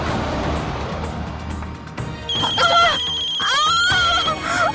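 A phone ringtone chirps in repeated melodic bursts over the rumble of a car interior, loud and close.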